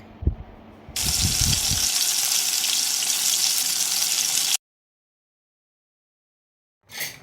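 Ceylon spinach dal is poured into a hot tempering of turmeric and dried red chillies, setting off a loud, sudden sizzle that hisses steadily for a few seconds before cutting off, after a few soft clatters.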